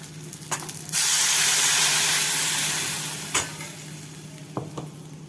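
Tamarind water mixed with salt is poured into hot masala in a pan for an eggplant curry. After a couple of utensil clicks, a loud burst of sizzling erupts, then slowly fades to a gentle bubbling hiss with occasional clinks.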